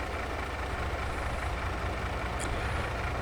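A truck in Farming Simulator 22 idles with a steady, loud, low engine drone throughout, alone with no talk and one faint high tick near the end.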